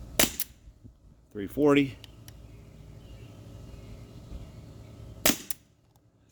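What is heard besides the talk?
shots from Umarex H&K VP9 T4E .43 pistol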